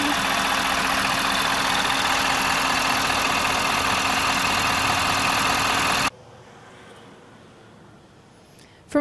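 A Ford F-250 truck's 6.7-liter V8 engine idles loudly with a constant low rumble for about six seconds, then cuts off abruptly, leaving quiet background noise and a faint click at the end.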